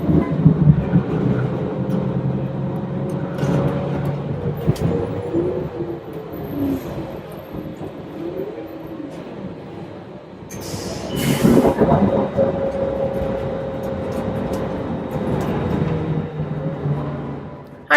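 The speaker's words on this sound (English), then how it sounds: "Okay, my bus is coming." A bus pulls up to a sunny stop in Riverside, California, its low engine rumble growing steadily louder and nearer, with a brief hiss and squeal from the brakes partway through.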